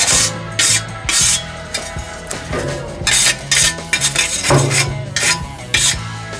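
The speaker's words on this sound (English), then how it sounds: "we're going to go over that with the wire brush as well" Wire brush scrubbing a metal BBQ grill, loud harsh rasping strokes in quick bursts with brief gaps, close up, with occasional metallic clanks between passes.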